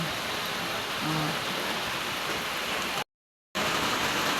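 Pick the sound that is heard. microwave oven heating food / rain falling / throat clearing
rain falling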